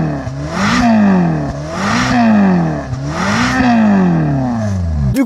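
Ferrari engine recorded from a camera mounted at the rear of the car, revving loudly in three repeated rising-and-falling pulls with a brief dip between each, close and continuous with no talk.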